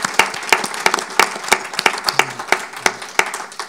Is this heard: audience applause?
yes